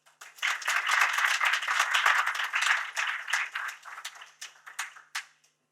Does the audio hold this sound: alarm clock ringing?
no